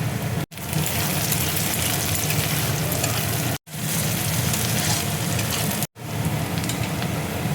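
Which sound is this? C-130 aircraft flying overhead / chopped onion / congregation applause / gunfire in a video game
chopped onion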